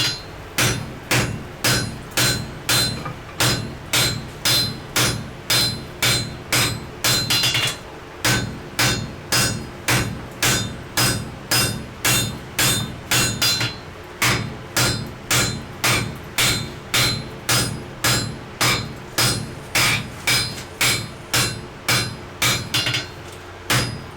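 Hot wrought iron is forge welded on an anvil with a hammer, giving loud, evenly spaced ringing strikes in a steady rhythm. Two short pauses break the series of blows.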